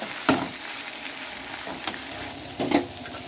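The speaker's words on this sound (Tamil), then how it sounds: "இதை நல்லா வாஷ் பண்ணிவிட்டு இப்போ இதையும் சேர்த்து வதக்கிக்கலாம்" Thuthuvalai leaves and curry leaves being sautéed in a pan for chutney give a steady close sizzle, with three sharp stirring scrapes at intervals.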